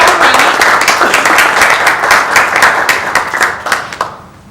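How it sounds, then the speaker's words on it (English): A crowd applauds warmly, steady clapping close and loud, fading out near the end. "So I would kind of like to ask you to give a warm round of applause for Mohamed"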